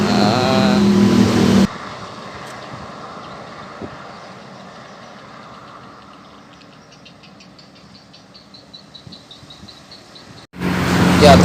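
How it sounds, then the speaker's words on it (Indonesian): Rapi bus passing on a road, a diesel engine rumbling by at moderate distance with a steady drone that fades, bracketed by louder noisy bursts at the start and end. "terpantau 1 unit bus Rapi"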